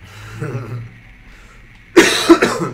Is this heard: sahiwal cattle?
no